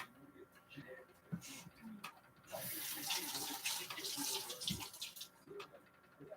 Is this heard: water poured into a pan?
yes